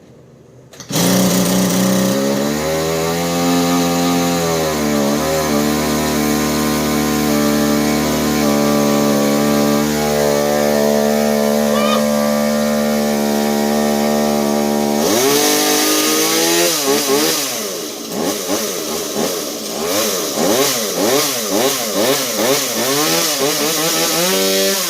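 A Stihl chainsaw running under repair, its small engine droning loudly and steadily with wavering pitch, then revving up and down in repeated surges, with no talking.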